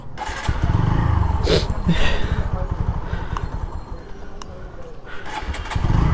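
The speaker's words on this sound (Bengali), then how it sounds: "এই তো বাইকটা স্টার্ট দিয়ে দিলাম।" A motorcycle engine cranks and catches, then settles into a loud, close, steady idle rumble, with a person talking at times.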